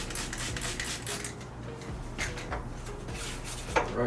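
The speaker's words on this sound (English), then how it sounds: "Get the scrubbing" Brush scrubbing grime off a car body being prepped for paint, rapid repeated rough strokes close up, with occasional light clatter.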